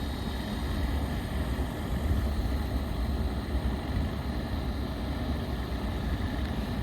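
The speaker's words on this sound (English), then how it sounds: "So it is spinning." A MasterCool MCP15 evaporative cooler pump motor, an assembly with a factory defect of tangled coil wires, spins with a steady low hum and broadband whir. It holds an even level throughout, close by, with no talk.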